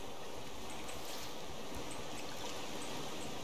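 Quiet, continuous watery trickle and stream-like wash from drinking water in the survival video game Raft, faint and steady with no speech over it.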